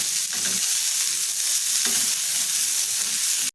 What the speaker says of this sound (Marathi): गाजर मी बारीक चिरून घेतलेला आहे आणि कांदा चिरलेला आहे ते टाकून आपल्याला परतून घ्यायचं